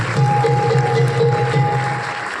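Audience applause at a cultural festival closing event in Dharashiv, steady dense clapping from a crowd throughout, with a constant tone running underneath.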